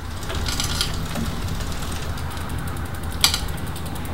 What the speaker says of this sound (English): You can simply grab a rag, wrap it around the chain, and rotate the cranks.